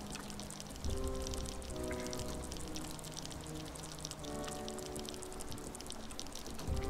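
Water sounds in the video game Whispering Willows, a continuous pouring, rushing stream at low level, steady throughout with no talking.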